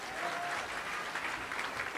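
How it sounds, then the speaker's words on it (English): Steady, dense applause from a live audience at a Little Rock Touchdown Club luncheon, filling the whole moment without pause, with no talk over it. "Let's please give him a round of applause."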